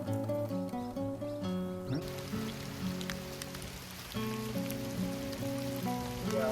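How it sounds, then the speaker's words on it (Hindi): Heavy rain with big drops pours steadily by a jungle riverside in India while music with sustained tones plays over it, the downpour thickening after the first couple of seconds. "बारिश हो रही बहुत भयंकर, एकदम से मोटी मोटी बूंदे"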